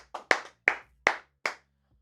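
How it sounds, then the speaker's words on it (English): Five sharp hand claps ring out close and clear in a steady, slightly uneven rhythm, each a crisp broadband snap with a short decay, followed by a brief quiet pause. "Clap it up."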